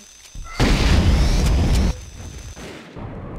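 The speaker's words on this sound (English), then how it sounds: "Plasma rifle" Plasma rifle fire in the game Terminator 2: a sudden loud burst of roughly a second and a half, with crackling high sizzle over a heavy low rumble, then cutting off to a quieter background hum.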